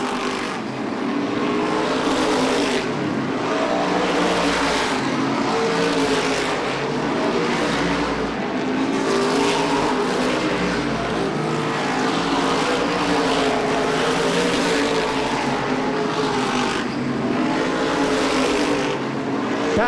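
Modified race cars thunder around Lee USA Speedway in a continuous, loud engine roar, several cars pulsing past in waves with crowd-level ambience and no talk.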